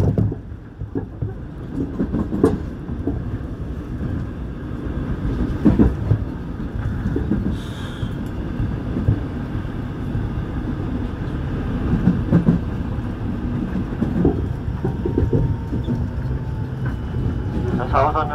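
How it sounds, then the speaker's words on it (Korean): Seoul Line 1 Cheonan rapid subway train running between stations, a steady loud rumble of wheels and car body with faint clacks throughout, while Korean and English onboard announcements play over it. "This express train is bound for Chennai."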